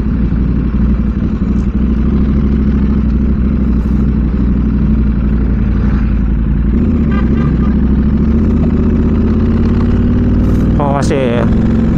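A KTM 790 Adventure motorcycle engine runs loud and steady with its exhaust open and no dB killer fitted, a continuous low rumble throughout with a brief revving rise near the end.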